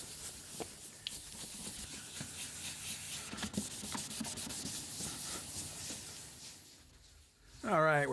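Plastic car headlight wet-sanded by hand with 1000 grit sandpaper, a steady close scrubbing rasp with rhythmic back-and-forth strokes that fades near the end, followed by a brief louder burst.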